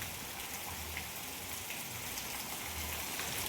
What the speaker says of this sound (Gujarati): પોણી કલાકથી તમે જોઈ શકો છો ફૂલ વરસાદ ચાલુ છે.